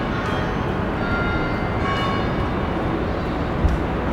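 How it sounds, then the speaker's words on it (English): Town bell ringing in the distance, a few faint tolls over a dense, steady background rumble with no talking. "There's the town bell. Let's let the town bell finish."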